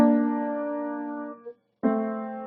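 Two sustained piano chords of paired notes in parallel thirds, the first ringing and fading, a brief silence, then another pair struck firmly and held.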